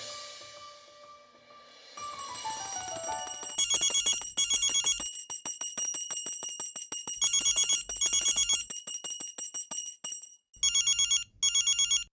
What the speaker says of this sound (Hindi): अहो फोन वाजतोय